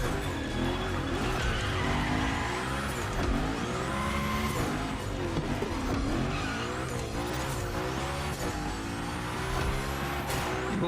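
A Unicorn car in The Crew Motorfest gymkhana runs through big sliding drifts, tyres skidding and squealing continuously over a loud, revving engine for the whole stretch.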